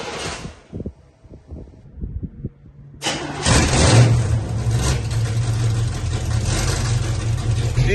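A 1979 Corvette engine cranks after a few faint clicks and catches, then settles into a steady, loud idle rumble that continues to the end.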